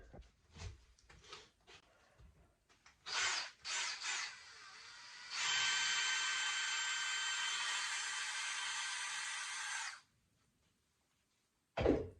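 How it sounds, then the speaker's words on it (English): A few scattered knocks and handling sounds, then a power drill whirs steadily for several seconds at close range, drilling a hole in a small wooden boat, before stopping abruptly. "let's drill a hole in the boat."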